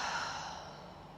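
A deep, slow exhale during gentle yoga breathing, a soft, breathy whoosh that fades steadily over about a second, heard alone and close.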